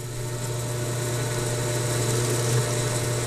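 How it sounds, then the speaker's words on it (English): A center drill cutting into a gunsmithing receiver holding fixture, a steady machine whine and hum holding at even loudness throughout, close and continuous with no talk. "I'm going to make a pretty good cut with my center drill here"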